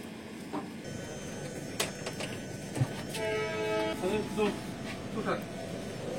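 Lachit Express departing Cement Chapari station at night: a low, steady rumble of rolling wheels with metallic clanks and brief tonal squeals or a distant horn, moderately loud and continuous throughout.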